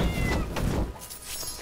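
A pet cat in the video game Portal Knights gives a short, close meow with a rough, slightly growling tone over a busy background of game sound.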